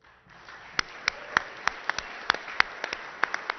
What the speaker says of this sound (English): Give them another round of applause, folks.